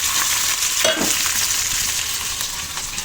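Steady hot-oil sizzle with crackling spits as mustard seeds and other spices fry over medium flame, close and continuous, a brief stir partway through.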